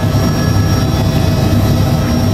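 A Black Hawk helicopter hovers before landing, its loud, steady rotor and turbine roar filling the scene without a break, with a low pulsing rumble underneath and no voices.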